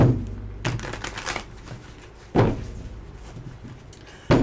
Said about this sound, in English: I'm going to shuffle 3 times, knock, and then I'm going to get our answer.